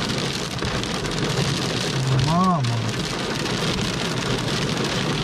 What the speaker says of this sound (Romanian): Ce plouă!